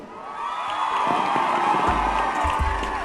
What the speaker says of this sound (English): gotta give you a round of applause, man.